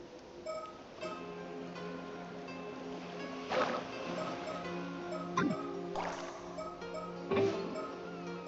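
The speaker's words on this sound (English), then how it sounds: "The sound of the waves and the buzz from the onlookers fills the air around us." Ocean waves wash steadily beside a murmuring crowd of onlookers in the game Paranormasight: The Mermaid's Curse, a soft constant hush with a few louder surges of surf breaking through at intervals.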